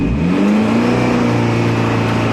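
A Commaero Turbo car, its 4N71 gearbox fitted with a manual valve body, pulls away in second gear: a loud, close engine drone whose pitch rises steadily through a short burst of acceleration, with no voices.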